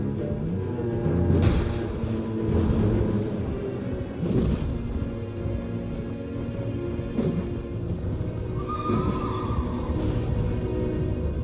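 A horse neighs in Elden Ring through a dense, rumbling game soundscape with rain-like noise and occasional heavy thuds.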